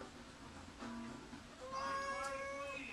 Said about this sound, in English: I got my cat in here, so excuse the meowing you may be hearing.